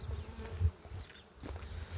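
Honeybees buzzing at a hive during queen rearing in nucleus boxes, a faint, low, steady hum that stays close and carries on for the whole moment, with no talk.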